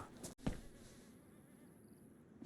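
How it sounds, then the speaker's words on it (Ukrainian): Faint buzzing of flies in the survival game DayZ, a quiet, thin drone after a brief sharp knock near the start, heard alone at low level. "Я чую, мухи десь летають."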